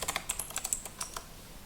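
Quick, light keystrokes tapped on a computer keyboard while a word is typed into Photoshop: a short, uneven run of clicks, close and fairly quiet.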